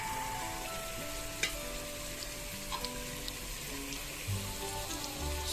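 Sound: chicken added to pan with ginger garlic coriander paste, frying

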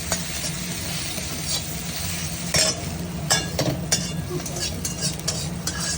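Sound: egg frying in a pan

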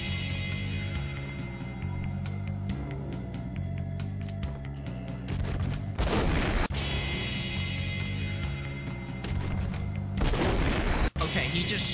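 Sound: enemy firing rocket launcher in Max Payne video game

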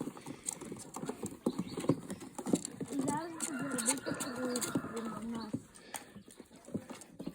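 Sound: pigeons taking off

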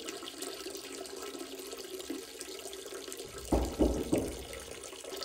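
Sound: person peeing into toilet

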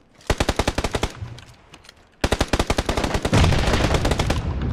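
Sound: gunfire in the video game PUBG

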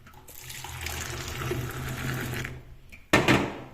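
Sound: tea with milk poured back and forth to cool

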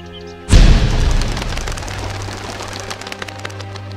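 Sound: fireworks explosion sound effect in anti-gunpowder campaign ad

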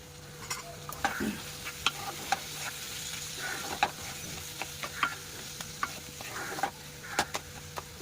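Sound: fish frying lightly with cumin and coriander powder

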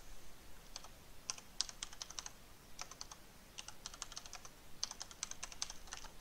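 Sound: computer keyboard typing

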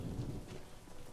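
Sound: thunderstorm with rain in a video game

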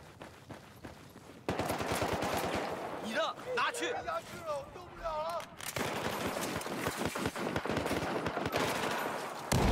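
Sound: gunfire in Battlefield 4 video game

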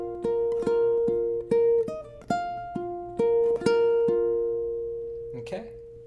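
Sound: ukulele playing a theme

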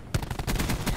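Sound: gunfire from the video game Black Ops 4

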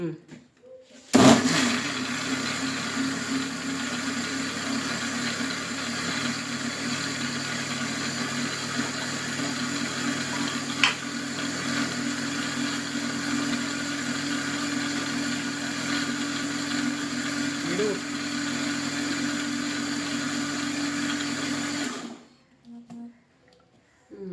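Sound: mixer grinding jackfruit cake batter

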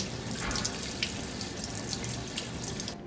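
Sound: running tap water rinsing eye model parts

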